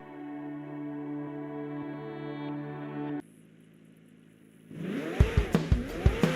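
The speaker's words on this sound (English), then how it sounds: "It's like driving a car Senna himself had set up." McLaren Senna hypercar in the GTA 5 video game: a steady droning engine hum, a brief quieter gap, then loud revving with rising and falling pitch sweeps and sharp thumps, close and with no talking.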